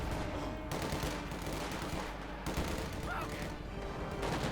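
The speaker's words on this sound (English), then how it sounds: "Certainly a bit of shooting there." Sustained battlefield gunfire from a Company of Heroes 2 match, dense overlapping rifle and machine-gun bursts rolling continuously at a steady, loud level with no pauses.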